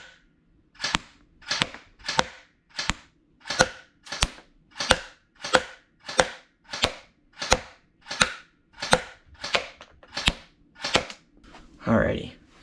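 A Sailent Arms BLU airsoft AEP fires about sixteen evenly spaced single shots, sharp close cracks in a steady rhythm, followed by a short voice at the end.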